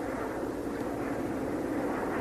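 Steady airplane engine drone inside or near a plane, a continuous broadband roar holding even loudness for a couple of seconds with no talk over it.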